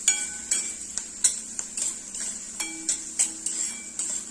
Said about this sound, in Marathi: हे व्यवस्थित असं परतून घ्यायचं